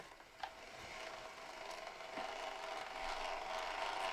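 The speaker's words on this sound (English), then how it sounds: "The printer will go through a couple calibration routines right off the bat" A Bambu Lab A1 mini 3D printer runs its first calibration routines, giving off steady mechanical whirring with ratchet-like clicks and faint gear noise at low, even volume, with no voices.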